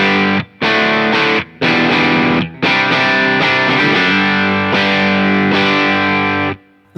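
Loud overdriven guitar from a Telecaster through a Bassman amp with a Visual Sound Open Road overdrive pedal: choppy chord bursts separated by short breaks, then sustained ringing chords that fade at the end, with no talking.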